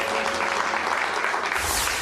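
Studio audience applause on a television quiz show, a steady, dense wash of clapping heard up close and alone for a couple of seconds.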